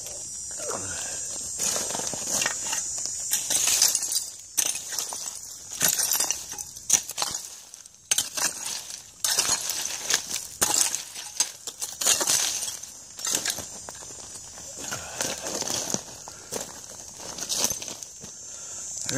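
Old glass bottles, including green antique glass, clink and knock against each other as someone digs through a 1920s dump, with scraping and shuffling in between. The sounds come in irregular bursts, close by, over nearly twenty seconds.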